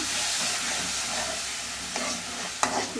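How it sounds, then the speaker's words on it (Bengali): Chicken masala with red chilli powder sizzles steadily in a pan as it is sautéed, a constant close frying hiss broken by a couple of sharp spatula scrapes and knocks near the end. "মশলাটা ভালো করে কষাচ্ছি"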